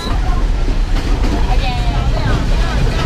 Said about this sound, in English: Train stopping and we're in a tunnel.